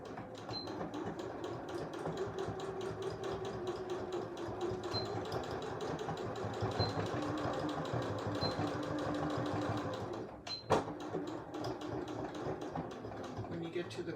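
A sewing machine stitches a fabric face mask in a steady, fast mechanical whir with rapid needle ticks, running continuously at moderate level with a short pause near the end.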